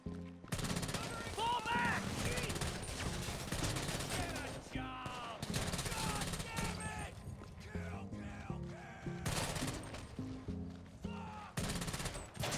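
SMG fire in GTA Online comes in dense, loud bursts of rapid shots, stopping briefly and resuming several times over a busy game soundscape, with short gaps between volleys.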